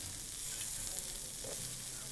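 Meat, mushrooms and onions sizzle steadily over a mesquite fire in a cast-iron Lodge pan outdoors, a continuous close crackle and hiss with no one talking.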